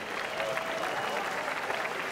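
A crowd at a Karate Combat fight cheers and applauds continuously in a dense wash of clapping and shouting, loud and steady throughout.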